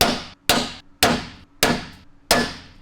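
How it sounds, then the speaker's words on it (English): Five sharp, ringing blows of a big hammer striking a center punch on a car floor pan during a spot-weld removal job, evenly spaced about half a second apart, each decaying quickly, loud and close. "That's why we use the bigger hammer and a nice center punch."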